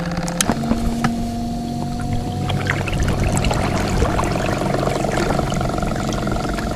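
A cargo boat that hauls metal runs its engine on the far side of a river, a steady distant drone with a low tonal hum that holds throughout.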